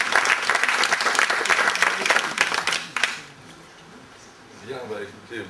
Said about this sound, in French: je vous demande peut-être de l'accueillir avec quelques applaudissements